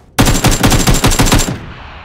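A loud, rapid burst of machine gun fire from a video game, with MK14 and Groza weapons, rattles for over a second with evenly spaced shots, then cuts off abruptly.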